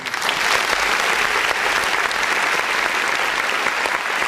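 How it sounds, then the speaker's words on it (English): Clapping from a live music reaction show host, a steady loud patter of hands lasting throughout with no speech over it. "I will give you a little bit of a clap."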